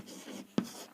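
A pen writes notes on paper during a lesson, with a faint soft scratch and one sharp tap near the middle.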